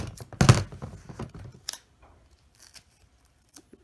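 Scissors snip through duct tape up close, a few crisp cuts and crinkly tearing in the first second and a half, then quieter faint handling and small clicks.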